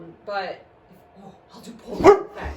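A pet dog in a home barks twice, a short yip and then a sharper bark, close by and partly under a person talking.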